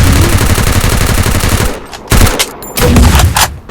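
Rapid gunfire from the Free Fire video game, loud and close, starts as a dense automatic burst and then breaks into two shorter bursts separated by brief pauses.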